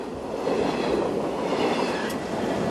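A heavy train locomotive rolls on steel wheels over steel rails, giving a steady rumbling roar with a faint high wheel squeal near the end, continuous and fairly loud.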